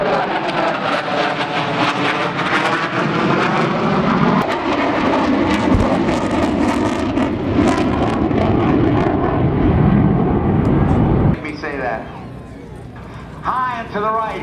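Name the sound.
F-14 Tomcat jets flying at an airshow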